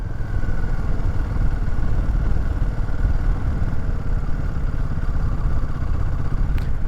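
Royal Enfield Himalayan 450 engine lugging low in fourth gear, a steady rough, knocking rumble with a dense low clatter, close and continuous throughout.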